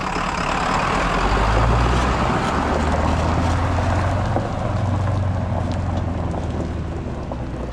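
A vehicle pulls forward out of a ditch on a driveway excavation site, likely the Ford F-350 dump truck or the Kubota tractor. A loud, close engine rumble swells early and then holds steady under broadband noise.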